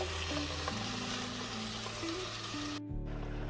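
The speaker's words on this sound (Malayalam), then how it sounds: "ഇനി നമുക്ക് തക്കാളി അരച്ചത് ഇതിലേക്ക് ചേർക്കാം." Ground tomato paste frying in a pan for a bitter gourd theeyal, a steady sizzle with stirring sounds running throughout under prominent background music, briefly cut off near the end.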